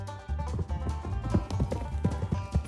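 A horse's hooves thud and clop on the ground in an uneven rhythm as the horse rejoins its herd, moderately close, with no talk.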